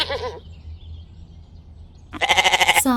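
Goats on a deer farm in Buraidah bleat nearby: a short bleat at the start, a quiet stretch with low background rumble, then a loud, wavering bleat close to the microphone at the end.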